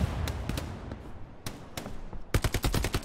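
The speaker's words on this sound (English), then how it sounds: "some dude with an MP40 is just holding down the trigger and shooting like 10 feet over my head" Sustained automatic fire from an MP40 submachine gun in the World War II shooter Hell Let Loose, a rapid string of sharp cracks that grows into a dense, loud burst near the end, heard alone with no voices.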